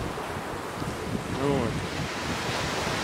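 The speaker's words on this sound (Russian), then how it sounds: "Тем временем на море начался небольшой шторм." Waves and wind of a small storm on the Black Sea near Crimea, a steady rushing surf roar with gusty wind buffeting the microphone, and a brief spoken word.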